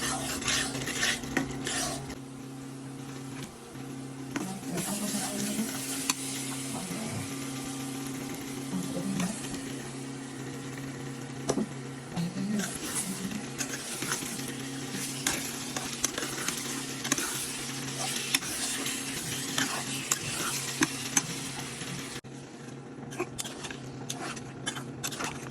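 Meat and spices being sautéed in a pan for a curry, a steady scraping stir of a utensil against the pan over a continuous low sizzle, close and moderately loud, with occasional metallic clinks and no talking.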